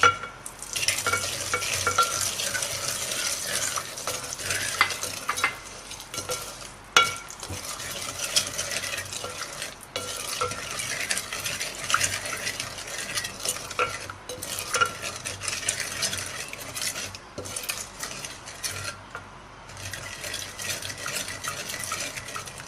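Semolina being dry-roasted over medium heat in a pan, stirred steadily with a spoon that scrapes and rasps continuously and clinks against the metal now and then, with no voices.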